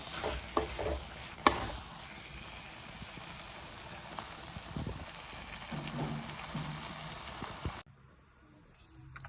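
Tomato palya with peanut powder sizzles in a pan as it is stirred and mixed, a spatula clacking sharply near the start, then the frying cuts off to near silence at the end.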